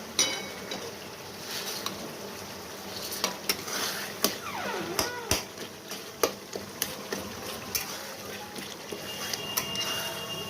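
Tomatoes for pav bhaji fry and sizzle in a pan as a spoon stirs them, with steady crackling and repeated sharp scraping clicks against the metal, close and moderately loud.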